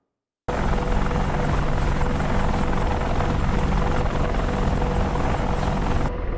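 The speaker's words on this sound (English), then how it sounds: "here we are inside the Apache" Apache helicopter in a VR flight sim game, a loud continuous rotor and turbine roar that starts abruptly after a brief silence and cuts off near the end.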